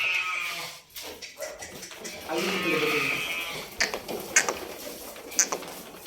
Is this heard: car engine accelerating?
no